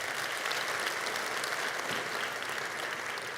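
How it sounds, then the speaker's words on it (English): Dense, steady applause from a graduation ceremony audience in Stellenbosch, thanking a university wind and percussion ensemble; the clapping is loud, even and continuous throughout, with no other sound over it. "You can just give them a clap."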